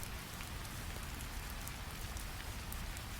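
Steady rain falls on old stone in a Tibetan mountain monastery setting, a dense, even patter of drops with a soft low rumble underneath, continuous and close throughout with no voices.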